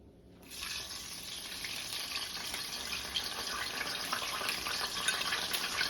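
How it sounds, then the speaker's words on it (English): Egg-dipped French toast slice set egg side down into a hot pan, giving a steady broad hiss that rises suddenly and holds at a moderate, close level with no talk. "Egg side down into the pan."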